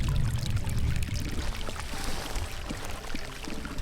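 Natural spring water running straight out of the ground at a remote overlanding spot near San Diego makes a steady, close splashing trickle with no pauses and no voices.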